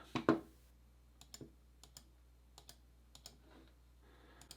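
Keyboard keys typed at a computer while entering a word into a shirt design, heard as a few sparse, light clicks spaced irregularly, with a louder knock at the start and no talking.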